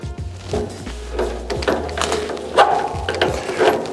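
A basin wrench working on a nut under a kitchen sink, giving close metallic ratcheting clicks and scrapes in short irregular bursts with low knocks against the fittings.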